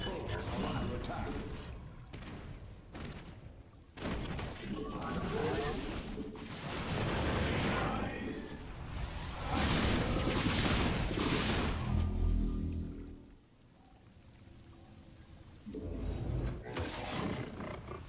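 StarCraft 2 battle sounds: bursts of gunfire and explosions come in dense, loud waves with brief lulls between them, mixed with game voice alerts.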